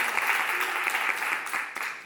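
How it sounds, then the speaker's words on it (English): Audience at a city council legislative oversight hearing claps for themselves, a thick burst of applause at close range that thins toward the end, with faint voices mixed in. "Give yourselves a round of applause, please."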